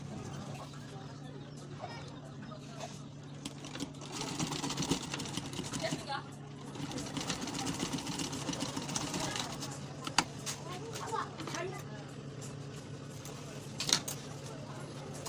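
A sewing machine stitching a leather clutch bag in a leather workshop hums and rattles steadily at low volume while a person keeps talking over it throughout.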